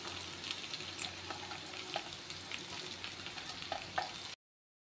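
Soybean chunks for hotel-style soybean chili frying in a pan, a soft continuous sizzle with a few light clicks of stirring, fairly quiet and alone before cutting off.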